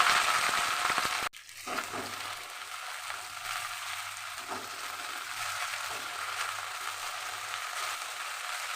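Okra dropped into hot mustard oil in a wok, a sharp sizzle bursting up and then settling into a steady, moderately quiet frying hiss that continues alone.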